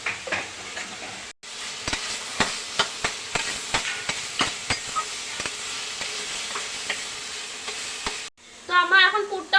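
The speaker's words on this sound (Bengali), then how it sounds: "তো আমি এখন সয়া সস দিয়ে দেবো।" A veg momo filling sizzles in a hot pan as black pepper and soy sauce are stirred in, with a spatula scraping and knocking in a quick, uneven rhythm over the steady frying hiss, which pauses briefly near the end.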